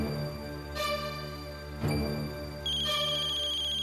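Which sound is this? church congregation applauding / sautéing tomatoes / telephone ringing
telephone ringing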